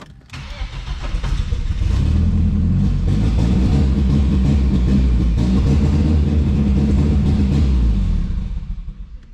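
A BMW 316i turbo cranks and fires up, its engine settling into a loud, steady, close-up idle rumble that holds for several seconds before fading slightly at the end.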